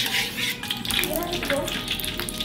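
Fragrant aromatics sauté in heated oil for a Meugang-style home-cooked dish, giving a close, continuous bubbling sizzle with a watery spatter texture.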